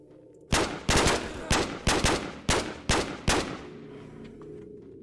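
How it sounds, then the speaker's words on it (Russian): About eight sharp, loud gunshots ring out in irregular quick succession during a firefight in the survival shooter V.O.D.K.A., each with a short echoing tail, followed by quieter ambience. "Ребята, пошла перестрелка страшная."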